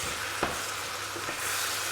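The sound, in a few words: sizzling frying in a pan for goose gravy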